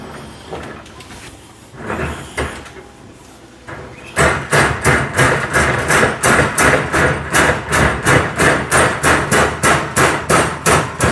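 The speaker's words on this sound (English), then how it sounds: "We're going to start hammering this edge here." Rapid hammer blows strike along an edge while moving house, about two per second, loud and close after a few quieter bumps and scrapes at the start.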